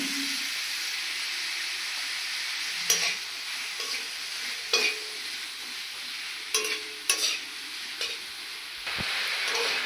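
Onions frying with salt in a pan for a paratha filling, a constant hissing sizzle with occasional spatula scrapes and knocks spaced a second or two apart.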